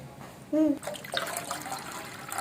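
Water splashes and trickles in a kitchen while rice pudding is made, a short pouring, sloshing sound that follows a brief tonal note and continues softly for a couple of seconds.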